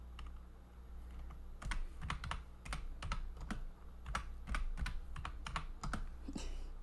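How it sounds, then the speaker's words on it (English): Keys clatter on a computer keyboard during a late-night stream, a run of distinct, moderately close clicks in an irregular rhythm over a low steady hum. "Me just typing in generic timer."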